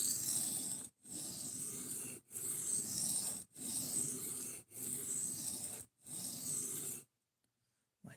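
Knife reprofiling on a diamond sharpening stone above 1,000 grit: six steady rasping strokes, each about a second long with short gaps between, close and fairly loud with no talk, then silence at the end.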